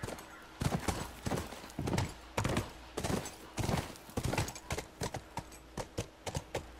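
Video game horse hooves in The Last of Us Remastered clopping in quick irregular bursts, louder and closer, as if the horse is stepping about or trotting over hard ground; no voices.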